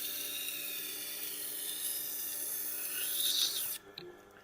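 Steady rasping strokes of a knife blade worked on a 250 grit abrasive, a continuous scraping that runs close and loud for nearly four seconds before stopping abruptly, followed by a faint clack.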